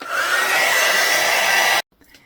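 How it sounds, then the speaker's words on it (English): A heat gun blows hot air to dry a handmade holiday craft coaster with a cork bottom. It gives a loud, steady, close whooshing roar for nearly two seconds, then shuts off abruptly, leaving faint room noise. "you can take your heat gun like I'm going to, and just make sure that that is nice and dry"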